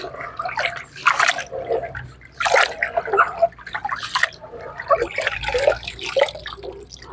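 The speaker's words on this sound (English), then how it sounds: "Let me pour this, and you have to use a lot of water." Water is poured and sloshed over millet grains being washed by hand for pap, making close, loud splashing bursts and trickles in uneven surges.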